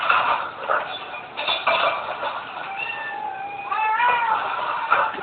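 Pet cat meowing indoors, a series of drawn-out, rising and falling meows over about five seconds, close and fairly loud, with some background rustle and clatter.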